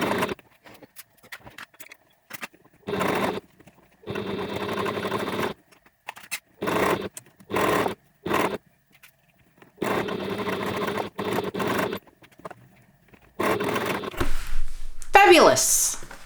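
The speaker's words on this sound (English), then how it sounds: "I'm going to top stitch from here all the way around" A sewing machine top stitches around a backpack in repeated bursts of steady whirring, each running a second or a few seconds and separated by short pauses, followed by a brief scrape or handling noise at the end.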